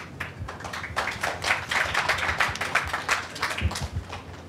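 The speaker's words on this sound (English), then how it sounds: "Let's clap for." Scattered applause from a conference audience at a research event, a steady patter of hand claps filling the room for several seconds at moderate level.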